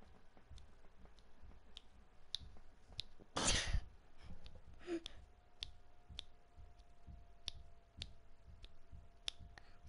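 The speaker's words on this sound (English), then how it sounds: "It's just me clicking my finger and it sounds like slime somehow" A finger clicking repeatedly close to a microphone, producing soft, wet, slime-like ticks at an irregular pace, with one louder burst partway through against quiet background noise.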